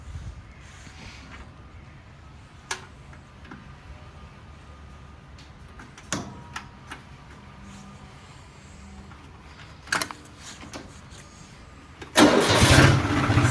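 Tractor engine turning over and catching at the very end, a loud burst of starting roar after a long stretch of quiet outdoor ambience broken by a few faint knocks.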